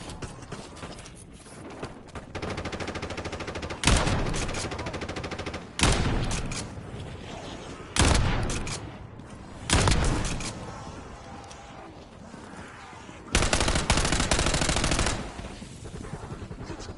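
Automatic gunfire in the video game Call of Duty, with repeated loud bursts and fusillades that start abruptly and are separated by short lulls of quieter mechanical noise.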